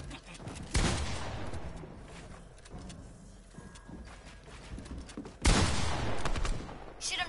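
Bursts of video game gunfire, including a loud volley near the start and another late, with rattling fire and mechanical clatter in between during an online solo shooter match with rocket launchers.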